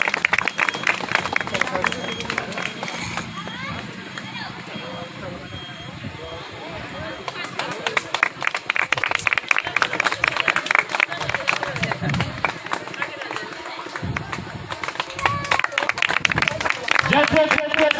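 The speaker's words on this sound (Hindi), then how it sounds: "आप जोरदार तालियों से स्वागत करें" Crowd clapping in bursts at an outdoor Ambedkar Jayanti gathering, dense applause swelling and fading across the clip, with voices and crowd babble mixed in.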